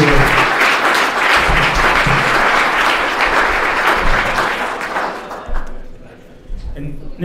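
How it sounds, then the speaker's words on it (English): Audience applause at a live bar or lounge show, a dense sustained clapping that fills about five seconds and then tapers into scattered claps and a few thuds. "Another round of applause for the great guys."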